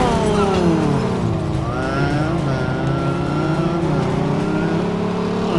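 Car engine in Mafia 2 revving hard and shifting through gears, loud and close, with rising and falling pitch sweeps and a hint of tire squeal, no talk over it.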